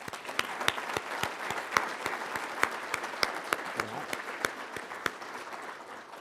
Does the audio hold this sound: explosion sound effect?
no